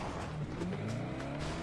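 Vehicle driving in PUBG, with a steady engine drone and a shifting tone as it moves, heard up close and continuous with no voices over it.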